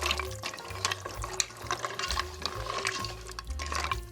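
Bowtie pasta and sun-dried tomatoes being stirred into a ground beef soup, a continuous wet sloshing and liquid churning close by, with a low rhythmic rumble underneath and no talk.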